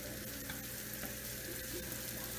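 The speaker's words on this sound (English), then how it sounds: "Toss that in there with all the cooked goodies. Okay, blend it in there. Nicely stir it around." Cooked quiche filling ingredients, including chopped bacon, are stirred together in a pan, giving a steady sizzle and soft scraping that stay continuous and fairly loud throughout, with no talking.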